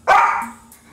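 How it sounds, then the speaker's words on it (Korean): A single loud, close dog bark bursts out sharply, then trails off into a fainter whimpering tail, with no voices over it. "그래, 짖지 마."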